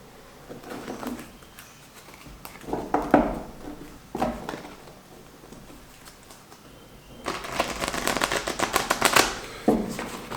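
Oracle cards being shuffled by hand: soft papery riffles and taps in short bursts early on, then a longer, louder run of crisp card flutter near the end.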